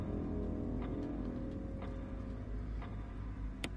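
A clock ticks steadily and faintly in Resident Evil, a soft repeating tick under a dense, loud ambient game drone.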